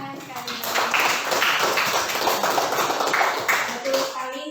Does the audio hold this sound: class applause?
yes